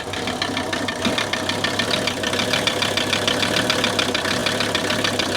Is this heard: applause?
no